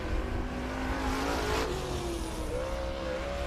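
Race cars lapping the oval at Dixieland Speedway in Elizabeth City, NC, engines droning loud and steady with rising and falling pitch as they circle, no talk.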